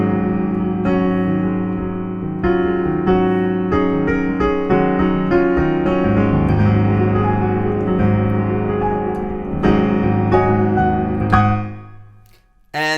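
Solo piano plays the intro of a gospel song, with rich sustained chords and gentle melodic runs that fade to silence at the end.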